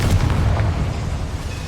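A Confringo fire spell goes off in Hogwarts Legacy as a loud, deep booming blast that rumbles low and steady, then fades slightly over under two seconds with no voices.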